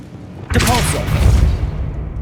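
Depulso spell blast cast in Hogwarts Legacy: a sudden loud whooshing burst with a low boom, sustained for a second or more, right after a voice calls out the incantation.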